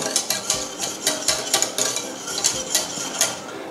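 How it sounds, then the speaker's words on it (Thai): A spoon stirs gelatin powder into hot liquid in a pot on a switched-off stove while making green tea milk tofu pudding, giving close, rhythmic scraping and clinking strokes with no voices. "ทีนี้ก็คนให้ละลายเข้ากัน"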